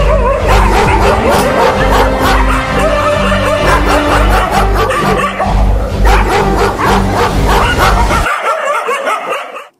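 Stray dogs in a street in Kolar district bark, yip and whimper loudly and repeatedly in a near, overlapping chorus, which cuts off abruptly near the end.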